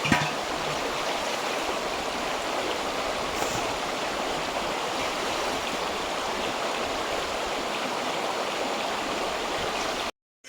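Cold water flows steadily at a rural spot during the rice harvest, where it is being collected: a dense, even rushing and gurgling that stays constant and fairly loud throughout before cutting off abruptly at the end.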